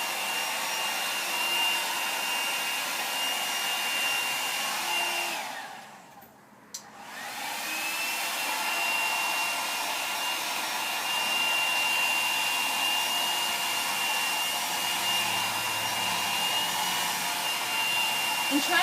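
A handheld hair dryer blows steadily on hair with the nozzle pointed down the strands to smooth them, a loud, close whoosh that briefly cuts out and then runs on without talk.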